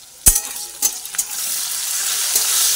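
Chopped onions with turmeric powder frying in hot oil, sizzling steadily at close range with a few sharp stirring clatters of a utensil in the pan early on; no voices.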